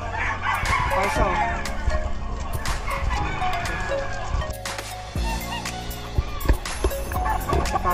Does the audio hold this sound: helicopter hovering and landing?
no